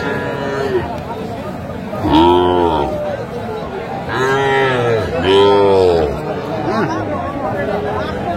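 Young bull calves mooing at a Dhaka cattle market, with two loud, drawn-out moos close by and a fainter call near the end, over steady crowd chatter and market hubbub.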